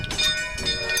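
Narrow gauge steam train with a German-built engine at a railway village museum, running close by with a hissing, clattering rumble and repeated chuffing bursts over about a second.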